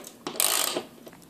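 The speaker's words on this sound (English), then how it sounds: "you're going to want to put the lag bolt in just to help it go in easier when you mount it up" A lag bolt being turned in with a ratchet while fitting a TV wall mount, giving a short burst of close mechanical clicking and metallic rattle lasting under a second, then quiet.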